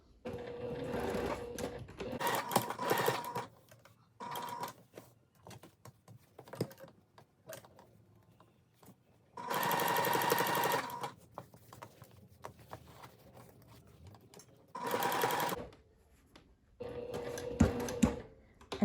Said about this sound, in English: And I'll sew this at 1/2 inch.